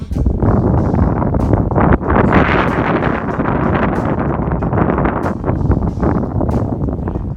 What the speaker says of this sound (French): il y a tellement de vent que